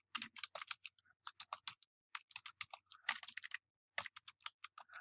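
Typing on a computer keyboard, quick bursts of crisp key clicks in uneven runs separated by short pauses, close and clear against a quiet room.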